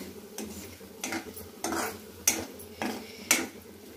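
A spatula stirs potatoes in a pan for sabudana khichdi, giving a steady run of about six rhythmic scraping and clanking strokes, close and fairly clear, with no talking.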